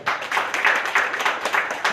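Dense, steady applause from an audience at a ceremony, close and continuous for a couple of seconds with no voices over it.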